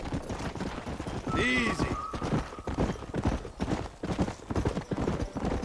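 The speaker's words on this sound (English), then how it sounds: "you are riding the horse a little more" Horse hooves clip-clop steadily while riding in Red Dead Redemption, with a brief whinny near the start and a voice speaking over the rhythmic hoofbeats.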